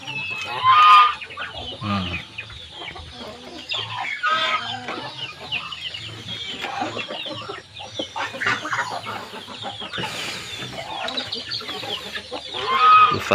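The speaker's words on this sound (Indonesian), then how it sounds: "Tuh, ada ayam Bangkok yang lagi mengeram." Bangkok fighting chickens cluck and murmur in a coop beside a raised laying platform, one hen brooding, with repeated close clucks and occasional louder squawks; someone talks at times over them.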